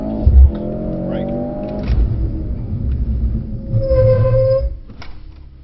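A Mercedes car at a Brooklands track day holds on its rev limiter with a deep bouncing rumble, then launches with a loud rising engine note that pulls away and fades, no talk over it.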